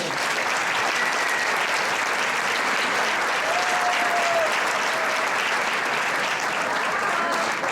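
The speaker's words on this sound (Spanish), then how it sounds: "Un aplauso para Diego." An audience at a book presentation breaks into sustained applause, a thick, even wash of many clapping hands that holds steady throughout with no letup.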